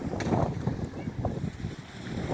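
Strong wind buffets the microphone at a seaside harbour, with waves breaking into foam along the shore, a steady rushing roar with gusty swells and no clear pauses.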